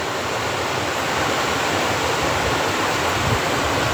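A river rushes through a rocky channel cut into stone galleries, making a loud, steady, broadband roar of flowing water that continues unchanged with no voices.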